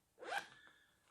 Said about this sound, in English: On both sides they got this ventilation zipper. It's possible to open it from the both end